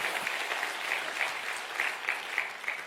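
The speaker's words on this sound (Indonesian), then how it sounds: "Berikan tepuk tangan kita untuk Tuhan kita." A church congregation claps together in steady, moderately distant applause that runs for a few seconds without pause.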